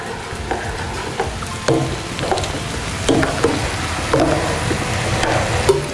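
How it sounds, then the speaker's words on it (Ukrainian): Food is stirred in a frying pan with a spoon, making repeated scraping strokes over a steady sizzle, close and fairly loud, with no talking. "Розмішуємо."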